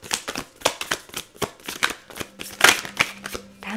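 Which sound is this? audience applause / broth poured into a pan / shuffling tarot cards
shuffling tarot cards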